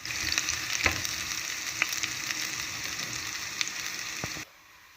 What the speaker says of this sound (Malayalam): ഈ ചെറിയ ഉള്ളി നമ്മളിങ്ങനെ വെളിച്ചെണ്ണയിൽ നന്നായിട്ട് മൂപ്പിച്ച് ഗോൾഡൻ കളറാകുന്നത് വരെ ഒന്ന് വറുത്തെടുക്കാം